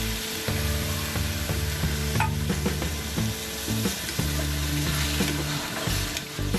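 Pureed tomato sautéing in oil in a pan for pav bhaji, a steady close sizzle with occasional stirring and scraping, heard alone without talk.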